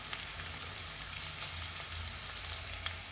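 Chopped onion hits a hot pan while cooking chilli chicken, giving a steady close sizzle and crackle that runs unbroken, with no voices.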